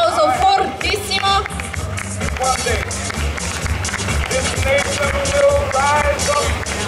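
Audience at the Miss Vesuvio 2024 pageant on Via Italia in Battipaglia applauding loudly, a dense wash of clapping and crowd noise mixed with voices and background music throughout.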